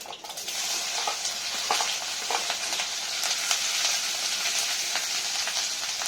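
Coriander and green chili sauté in a pan for upma, a bright, steady sizzle punctuated by repeated stirring clicks and scrapes, close up with no speech.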